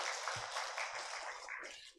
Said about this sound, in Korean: 우리 한번 박수 한번 보내주시면 감사하겠습니다